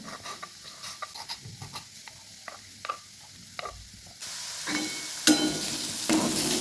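Radish vegetable (मुळा भाजी) with tomato frying in a pan: a steady sizzle with scattered crackles and stirring clicks that swells into a louder, continuous hiss toward the end.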